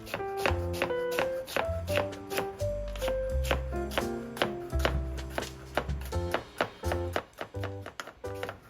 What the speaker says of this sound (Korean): 당근은 편으로 썰어 채 썰어 주세요.